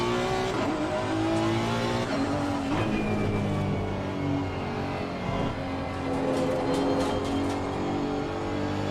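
A Honda race car roars in the Assetto Corsa Competizione sim racing game, its engine revving up and down through gear changes with occasional tire squeal, loud and continuous with other cars nearby.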